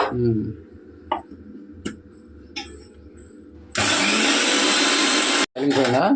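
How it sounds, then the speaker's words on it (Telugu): A mixer grinder grinding ginger, garlic and curry leaf spice paste with water whirs loudly and steadily for about two seconds, cuts out briefly, then starts again, after a few quiet clicks and some talk. "ఇప్పుడు మిక్సీ పడతాను"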